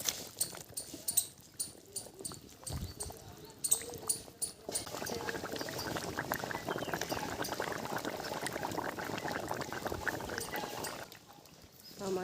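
Fish are slid into a simmering Bengali-style thin curry with green chillies, giving a loud, steady bubbling sizzle that swells after a few clattering knocks and then eases off near the end.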